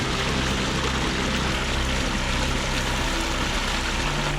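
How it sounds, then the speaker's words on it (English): Water cascades over rock in a waterfall that splits around a boulder into a recreational pond, a close, loud and unbroken rushing roar. "Now, check out this waterfall."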